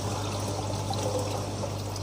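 Water falls steadily into a DIY hydroponic tank, a continuous splashing trickle and pour with an even, unbroken flow, close and moderately loud with no talk.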